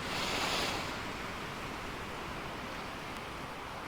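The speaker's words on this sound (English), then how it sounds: "Oh dear, that's the big waves." Big ocean waves surge and roar in a stormy sailing simulator game, a steady broadband wash of surf with a louder swell at the start, continuous and close with no voices.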